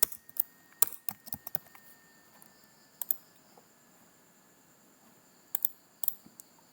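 Irregular bursts of key clicks from a computer keyboard, close and crisp, clustered in short runs with quiet pauses between them and no talking.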